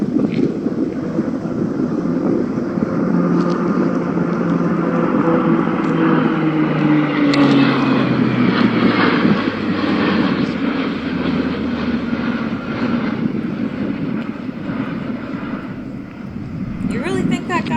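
A low-flying propeller airplane performs stunts close over water, its engine drone rising and falling steadily through the whole stretch with wind noise on the microphone, while voices talk over it.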